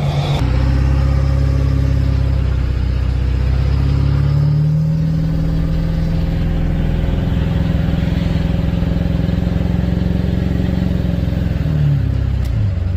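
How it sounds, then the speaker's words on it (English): A Ford 7.3 diesel pickup truck pulls a heavy trailer load, its engine droning loudly and steadily up close for the whole stretch, with a slight change in pitch partway through and no talking. "I'm not on full throttle, but it's pulling pretty good."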